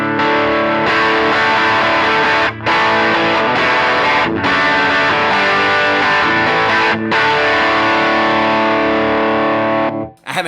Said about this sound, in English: And then I have a boost. It sounds like this.